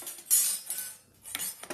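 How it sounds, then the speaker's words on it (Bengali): A wok set down on a gas stove gives a brief metallic clank followed by a couple of light clinks and scrapes, close and fairly quiet, with no talking. "কড়াই বসিয়ে গ্যাস অন করে দিলাম"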